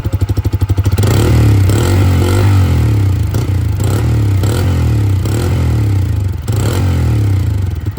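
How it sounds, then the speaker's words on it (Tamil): A Bajaj Freedom 125 motorcycle running on CNG idles loudly and steadily close by, a throaty exhaust putter with a rattling clatter, after a brief rhythmic start. "ஃபஸ்ட்டு சிஎன்ஜிலேருந்து வர சவுண்ட் எப்படி இருக்குன்னு பாருங்களேன்"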